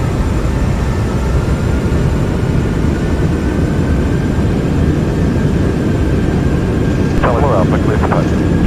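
Jet engines of a Qantas Boeing 747 Classic during the takeoff roll out of Sydney, a loud, steady low roar filling the cabin without pause.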